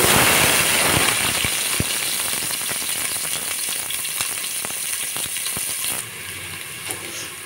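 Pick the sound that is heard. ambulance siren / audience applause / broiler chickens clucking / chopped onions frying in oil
chopped onions frying in oil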